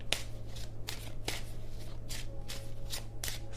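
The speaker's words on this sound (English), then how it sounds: "Why can't I shuffle this deck?" A deck of tarot cards being shuffled by hand, with repeated riffling bursts at a steady rhythm over a constant low background hum, close and clear with no talking.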